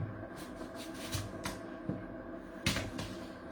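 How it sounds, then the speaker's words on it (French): A knife works through an apple by hand, giving a run of soft, quick scraping and cutting strokes close by with a few sharper chops in between. "Je suis en train de massacrer la pomme."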